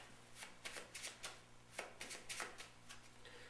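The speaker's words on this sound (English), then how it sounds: "I insert your card in the middle of the deck, like this. I shuffle the cards." A deck of playing cards being shuffled, a quiet run of repeated crisp riffling bursts in an uneven rhythm, close by with no talk.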